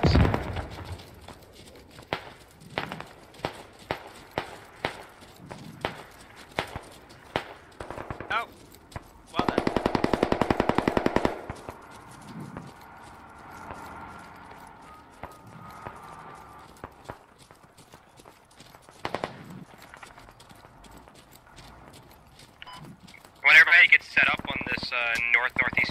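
Gunfire in a multiplayer shooter video game: rapid bursts of automatic fire and single shots, loud and close, interleaved with a long sustained burst, under intermittent talk from players.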